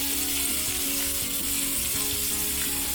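Pork chops sear in a hot pan, giving a constant, dense, close sizzle with a faint mechanical hum beneath and no speech.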